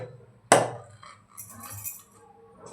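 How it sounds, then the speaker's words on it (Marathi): A pressure cooker lid is opened after the cooker has cooled down from cooking dal palak: a sharp metallic clank, then quieter scraping and rattling, and another metal knock at the end. "आता आपण झाकण उघडून घेऊया।"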